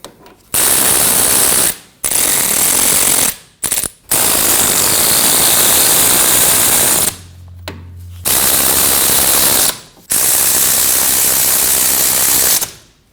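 Ratchet or power tool snugging the hub bolts on a Ford Edge front wheel bearing and hub assembly, giving loud rapid buzzing bursts of several seconds each, separated by brief gaps and a low hum.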